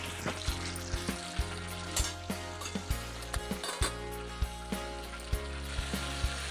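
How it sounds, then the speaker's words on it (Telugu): Chana dal, urad dal, mustard seeds and a little fenugreek tempering in hot oil for a drumstick chutney, giving a steady close sizzle with repeated sharp pops and crackles throughout. "పచ్చెనగపప్పు వేసాను, మినప్పప్పు, ఆవాలు, కొంచెం మెంతులు,"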